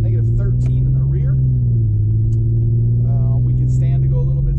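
An Infiniti Q50 sedan cruising with a steady low engine rumble and road hum, while a person talks over it throughout.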